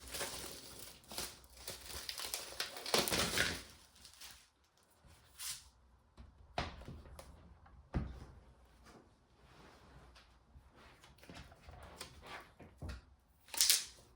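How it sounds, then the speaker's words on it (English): Crinkling plastic shrink-wrap is peeled off a photobook in bursts of crackling and rustling, loud near the start then intermittent quieter handling with pauses and a final sharp crinkle. "the book is covered by another plastic cover, like this outer plastic shell"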